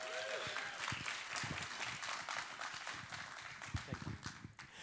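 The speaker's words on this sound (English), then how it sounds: "Let's give him a big clap as he comes up." A church congregation claps for a pastor coming up to speak on a Father's Day service, steady scattered applause filling the room at moderate level with some louder individual claps near the end.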